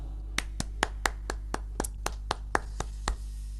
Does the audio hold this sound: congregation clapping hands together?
yes